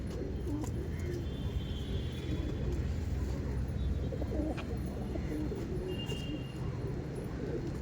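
Giribaj pigeons coo softly in a crowded loft, their low, repeated calls blending into a dense background rumble, with faint voices nearby.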